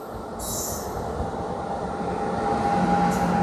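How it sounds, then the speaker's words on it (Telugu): The Venad Express overtakes on the adjacent track, a close, steady rumble of rolling train wheels with brief high squeals and a faint tonal whine, loud and continuous throughout. "Wayanad express Trivandrum షోర్నూర్ junction Wayanad express."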